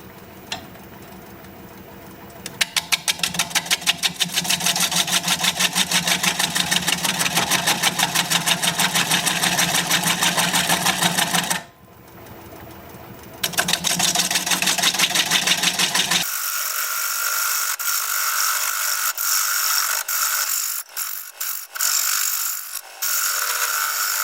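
A bowl gouge cuts cherry burl spinning on a wood lathe at a slow 375 RPM, giving a loud rapid rhythmic chatter that pauses briefly, then shifts to a smoother scraping whir.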